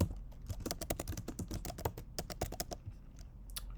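Rapid, uneven keystrokes on a computer keyboard, a close run of light clicks with short pauses as a locality name is entered, alone with no voices.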